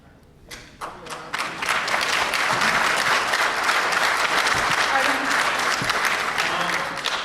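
Crowd at a Harsens Island bridge community meeting bursts into applause that swells from a few claps into sustained, loud clapping lasting several seconds, with some thumps mixed in.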